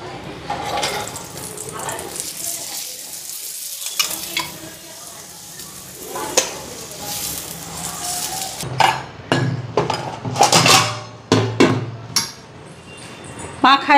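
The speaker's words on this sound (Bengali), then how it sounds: "এগুলি পরোটা ভাজা নি।" Parathas frying in a pan in a home kitchen, with intermittent sizzling, metal utensil clinks and scraping, while people talk over it.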